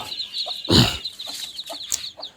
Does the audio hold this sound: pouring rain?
no